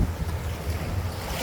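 Ocean waves washing onto a shore where sand turns to gravel, a steady broadband wash with wind buffeting the microphone, loud and close throughout a brief moment.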